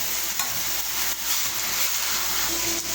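Ingredients sauté in a hot kawali with a loud, steady frying hiss up close, punctuated by soft rhythmic stirring scrapes.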